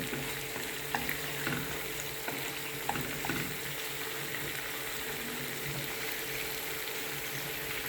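Zasmazhka, a fry-up with pomegranate sauce, sizzles steadily in a pan, a dense even crackle with a few soft stirring clicks and no talking.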